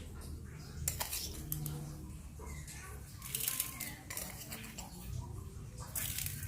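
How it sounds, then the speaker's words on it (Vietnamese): A spoon clinks against a bowl as salt is scooped over washed oyster mushrooms, giving several light metallic taps and scrapes close by in a home kitchen. "Rồi bây giờ mình sẽ cho muối vào đây ha"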